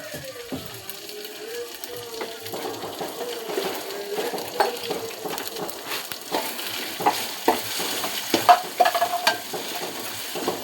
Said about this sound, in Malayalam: സവാള ഉള്ളി ആഡ് ചെയ്ത് ചെറുതായിട്ട് അരിഞ്ഞ് കുഞ്ഞായിട്ട് അരിഞ്ഞിട്ട് ആഡ് ചെയ്തിട്ടുണ്ട്